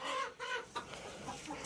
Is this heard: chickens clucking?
yes